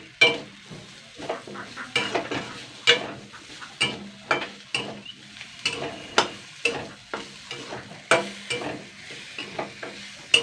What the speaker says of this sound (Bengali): এখানে দেখুন আমি আদা রসুন নিয়েছি এগুলো আমি এর মধ্যে দিয়ে দিচ্ছি